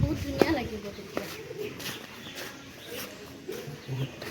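Pigeons coo at Kaziranga Orchid Park, a few soft low coos scattered among outdoor ambience, footsteps and faint nearby voices.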